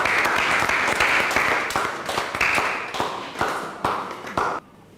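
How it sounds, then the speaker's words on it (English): Audience clapping in a school hall for students taking their seats, close, loud rhythmic claps from a group that thin out and stop abruptly near the end. "Shall we clap for them as they take their seat?"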